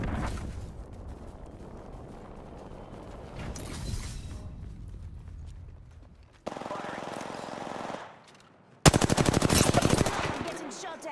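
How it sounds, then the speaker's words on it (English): Video game gunfire crackles in several bursts: faint earlier shots under a noisy battle mix, then two loud, dense automatic volleys near the end, with a short pause between them. "I'm getting shot at."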